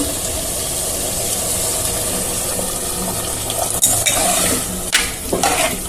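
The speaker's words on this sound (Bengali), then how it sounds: "নাড়াচাড়া করে জল দিয়ে দেবো।" Jackfruit seed curry with green chillies stirred in a pan: steady sizzling frying noise throughout, with a few sharper scraping and clinking spatula hits near the end, no voices.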